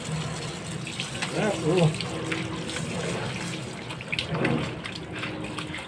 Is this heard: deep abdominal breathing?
no